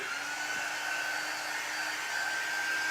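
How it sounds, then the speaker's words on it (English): A Magnolia heat gun blows on chalk paste spread on a paper lunch bag, giving a steady, loud, close whirring hiss that holds unbroken for about three seconds with no voices. "I'm using my Magnolia heat gun."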